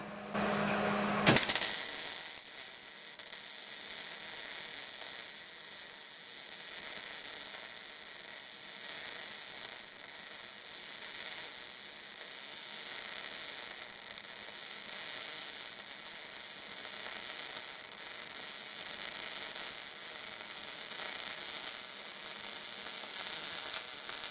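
A MIG welder lays a thick weld bead across a gap, giving a steady, close crackling buzz that holds evenly for over twenty seconds after a brief start, with no talking.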